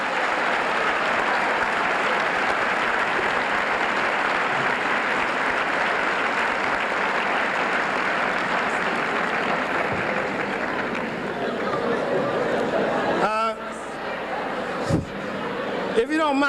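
Sustained applause from a school crowd at a 1984 fall sports assembly honoring an athlete, dense steady clapping filling a large hall for over ten seconds before thinning out, with some voices near the end.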